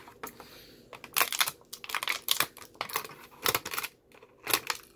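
Someone cuts open the back of Bakugan toy packaging, with uneven bursts of snipping, crinkling plastic and cardboard rustle coming in quick irregular clusters up close.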